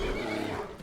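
Horse in the Skyrim video game giving a short, loud whinny during a fight with a bear and bandits, heard alone for under a second.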